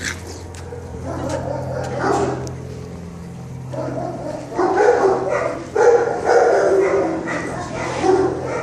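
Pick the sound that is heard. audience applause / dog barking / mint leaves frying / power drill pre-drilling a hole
dog barking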